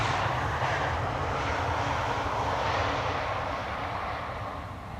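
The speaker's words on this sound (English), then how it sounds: "the Bombardier C-Series has landed just now" An Air France Airbus A220 airliner roars in to land at Amsterdam Schiphol, a loud, steady broadband jet rumble that holds close and full before easing slightly at the end, with no speech over it.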